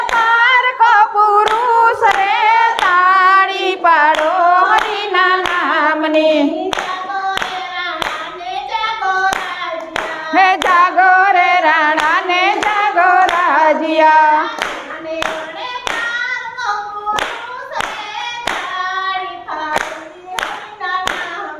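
Hands clapping in a steady rhythm to a Gujarati devotional kirtan, sharp regular claps under sung melody that carry on throughout.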